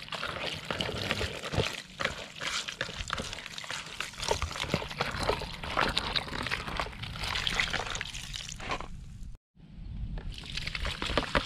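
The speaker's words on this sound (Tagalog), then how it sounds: "banlawan na natin ng tubig." Water poured over ingredients for a Capiz-style dinuguan being rinsed, a steady close splashing and trickling that runs almost without pause, with a brief break near the end.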